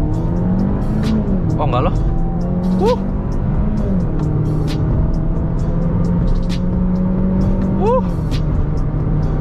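Mini Cooper S R56 car accelerating hard in first gear, a loud continuous engine drone rising in pitch with shifts, heard from inside the cabin while people talk over it.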